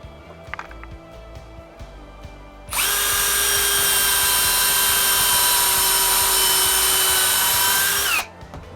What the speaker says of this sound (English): I'm going to eyeball it and put in a pilot hole and some screws.